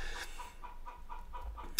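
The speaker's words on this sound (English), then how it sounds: "So if you hear a chicken in the background, that's what it is." Early morning, a hen keeps up a rhythmic run of clucks, about seven short evenly spaced calls in the background, fairly quiet, with nobody talking over them.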